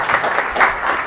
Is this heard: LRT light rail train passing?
no